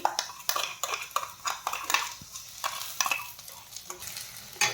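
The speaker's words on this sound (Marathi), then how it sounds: "याला आपण छान फ्राय करून घेणार आहोत दोन तीन मिनिट छान या प्युरीला तळून घ्यायचं आहे" Tomato puree frying with onion in a pan for tondli bhaji, a steady close sizzle broken by repeated scraping stirs of a spoon against the pan, no voices.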